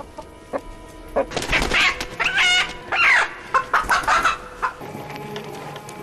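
Several bantam chickens cluck and squawk in a busy, uneven chatter, nearby and fairly loud, with short bursts overlapping each other.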